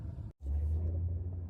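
2007 Ford Taurus engine running during a test drive, a steady low rumble heard from inside the car after a brief dropout, close and continuous, no talking.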